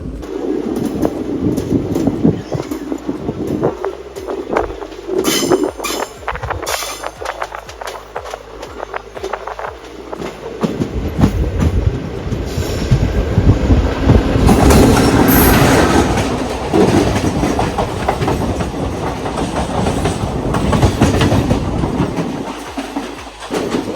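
The Tea Garden Express rumbles and clatters steadily along a curved track between Ernakulam and Trichy, with rhythmic clickety-clack from the wheels and a rising metallic roar midway through.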